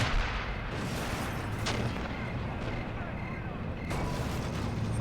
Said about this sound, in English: Since this Stuka drops a bomb, it's like he's taking his first look.